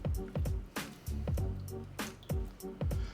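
Onion sauce made with ketchup simmers in a pot, giving off a run of wet, squelching pops and bubbling bursts at an uneven pace, close and fairly quiet.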